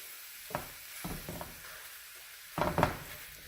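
Ground meat browning in a pan for shepherd's pie, a low background sizzle broken by a few short scraping and patting bursts of a utensil against the pan.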